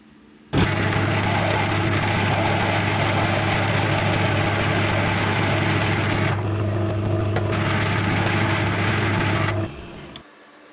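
A metal lathe turns a groove into stainless steel stock, a loud, steady mechanical drone with a constant whine that shifts briefly midway, then winds down and stops near the end.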